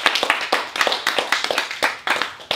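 A few people clap their hands together in a quick, uneven patter of sharp slaps, close by and with no voices.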